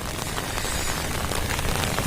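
Rain falling steadily all around during the rainy season, a dense, even hiss of drops on surfaces that stays loud and close throughout, with no voices.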